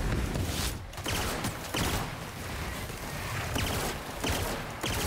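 Sustained automatic gunfire in The Outer Worlds shooter game, dense rapid bursts with brief gaps, loud and continuous throughout, with no talk.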